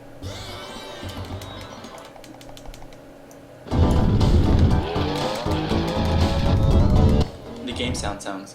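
Kart engines buzzing and tires skidding in the video game Diddy Kong Racing: a moderate hum, then a loud burst of revving and squealing for a few seconds before settling back down, with keyboard typing audible at the start.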